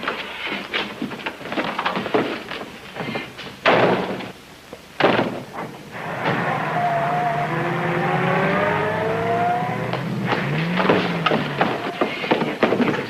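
Getaway car after a bank holdup in a 1941 film, with door slams and shuffling, then the engine revving and pulling away loudly as the motor note climbs and holds.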